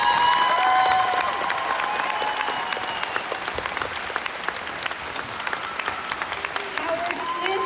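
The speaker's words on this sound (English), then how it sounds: "please stand up because you guys deserve a round of applause" Applause from the crowd at a middle school promotion ceremony honoring school staff, custodians, security and teachers, starting loud with cheering tones, then settling into scattered, thinning clapping with a voice faintly present early on.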